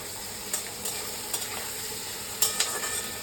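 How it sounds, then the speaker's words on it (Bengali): Potatoes stir-fried in a pan for a Bengali dish sizzle steadily under a few brief scrapes of a spatula against the pan. "আলুটা একটু নাড়াচাড়া করে নিলাম অলরেডি।"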